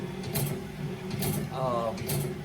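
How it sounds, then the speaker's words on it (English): A BMS 250 sharpener works a 158-inch bandsaw blade with 7/8-inch tooth spacing, giving a steady mechanical clatter with repeated bright grinding bursts about once per second, close and moderately loud over a constant machine hum. "we're sharpening it's a 158-inch blade, 7/8" tooth spacing, 10/30 pitch."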